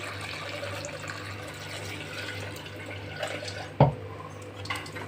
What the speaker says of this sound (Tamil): கொஞ்சமாக தண்ணி விட்டுங்க